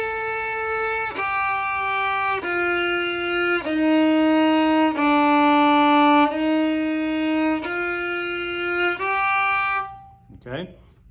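Violin playing a low augmented tetrachord, eight clear bowed notes in a slow, even sequence stepping down then back up, close and full, ending with a brief rustle.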